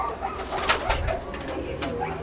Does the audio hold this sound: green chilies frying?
no